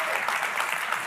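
An audience breaks into applause, a dense, even wash of clapping that holds steady for about a second.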